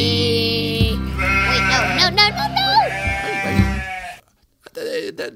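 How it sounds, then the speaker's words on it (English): A sheep bleats loudly and close in a long wavering cry, then gives a short second bleat after a brief pause. "That was a sheep."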